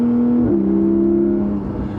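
Porsche Cayman GTS 4.0 engine running without a valve controller, heard close and loud as a steady drone whose pitch rises at a gear change midway, then eases off slightly toward the end.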